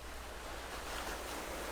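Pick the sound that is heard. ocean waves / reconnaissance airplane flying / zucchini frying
ocean waves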